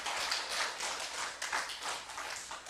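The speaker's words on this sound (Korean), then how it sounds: "하나님께 영광의 박수 돌리겠습니다" A church congregation applauding during a Sunday afternoon service, dense steady clapping from many hands, sustained and moderately loud throughout.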